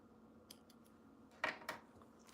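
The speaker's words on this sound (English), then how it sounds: "So there's some thread in between here. I'm gonna snip that." Scissors snip loose thread during a clothing alteration, a couple of faint taps followed by two quick, close cuts in a quiet room.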